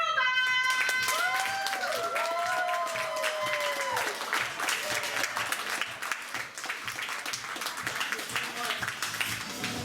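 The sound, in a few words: applause for a band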